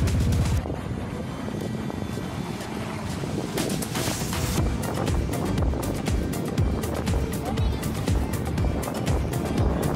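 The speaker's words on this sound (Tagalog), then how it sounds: "Yung maingay guys dahil sa super lakas ng hangin dito." Strong wind buffets the microphone at a beach, a constant loud roar with gusty broadband rushing and a faint wash of surf underneath, nobody speaking.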